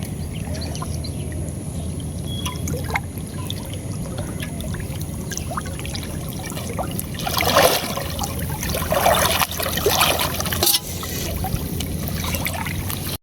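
Water sloshing and trickling as someone wades through floodwater while out fishing, a steady close splashing bed with louder surges of churning water in the middle stretch.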